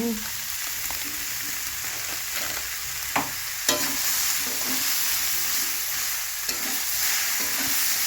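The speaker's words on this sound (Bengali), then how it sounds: "দু চামচের মতো সাদা তেল দিচ্ছি দিয়ে সবজিটাকে আবার ভাজা ভাজা করে নেব" Gourd and vegetables sizzle steadily in about two spoonfuls of white oil in a home kitchen pan, with a constant hiss broken by a few spoon scrapes and stirring knocks.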